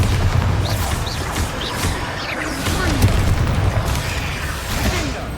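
The Bombarda blasting spell in the Hogwarts Legacy video game goes off as a heavy, rumbling explosive boom amid continuous loud battle noise, with a voice speaking over the din.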